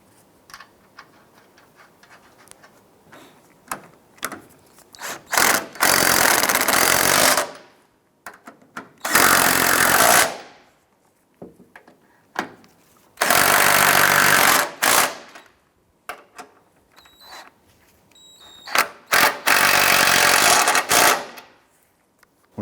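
A power tool runs in four separate bursts while the strut mount nuts on a 2001-2007 Ford Escape are snugged down, loud and close, with quiet handling noises in the gaps.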